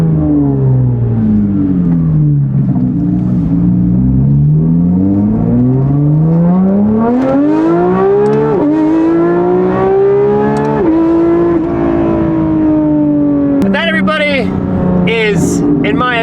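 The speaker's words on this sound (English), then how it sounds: "the best sounding true RSR exhaust experience that you can get." Porsche GT3 RS fitted with a Valvetronic Designs RSR race exhaust, a loud, close engine note that drops, then climbs steadily through the revs in a long rising pull, with a sharp crackle and bark near the end.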